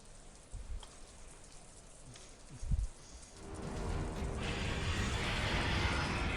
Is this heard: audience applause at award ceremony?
no